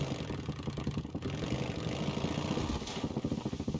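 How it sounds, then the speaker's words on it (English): Upgraded motorcycle engine in the video game Days Gone, a steady mid-low idling rumble with a slight pulsing rhythm, continuous and fairly close throughout. "We upgraded the engine on our motorcycle. It doesn't seem like it goes faster. It sounds quieter."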